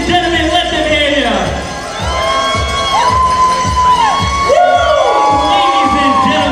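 Wedding reception crowd cheering and whooping loudly throughout, many voices shouting together with bursts of high excited calls, dense and close.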